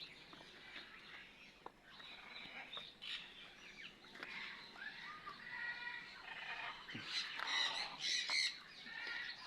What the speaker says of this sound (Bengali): পাখির শব্দ, হ্যাঁ?